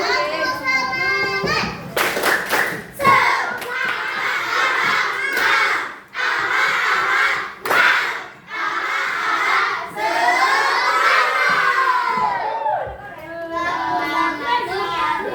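A group of children chants a rhythmic spirit cheer together in a classroom, with sharp bursts of clapping between loud, close shouted phrases and a pause partway through.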